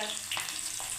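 Thick green chili frying in hot oil, a soft continuous sizzle with a couple of faint bubbling pops, quiet and brief.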